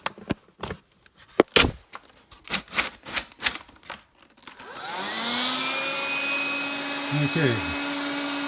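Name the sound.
vacuum cleaner running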